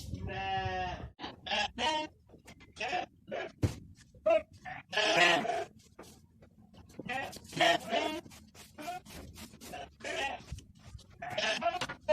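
Lambs bleat inside a village barn, many repeated, overlapping calls, some loud and close and others farther off, spread steadily across the whole stretch.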